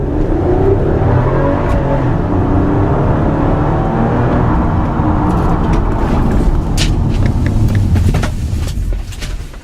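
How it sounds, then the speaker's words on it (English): A 2013 Toyota Camry V6 accelerates hard, its engine drone steady and loud from inside the cabin with road and wind rumble, easing slightly near the end. "The acceleration of the V6 is very strong."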